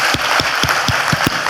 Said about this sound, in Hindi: जोरदार तालियां हम हमारे गेस्ट के लिए बजाएंगे।